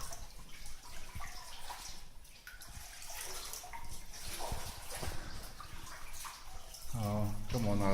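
Water splashing and sloshing as people wade knee-deep through a cave passage, steady close wet churning, with a voice speaking partway through.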